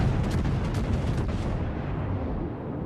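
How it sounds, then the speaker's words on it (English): Armor-piercing main gun volley from a battleship in World of Warships, heavy deep booms rolling together into a loud, sustained low rumble that slowly fades. "And another armor-piercing volley, and I think she'll go back to the dust."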